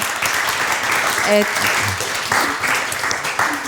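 Audience applause at a panel discussion event: a steady wash of clapping from the room, with a few brief voices surfacing over it.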